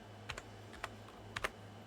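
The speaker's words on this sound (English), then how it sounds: "we'll type in map, Nazi, zombie," Quiet, close typing on a backlit computer keyboard: a few scattered key clicks in small clusters, with no talk over them.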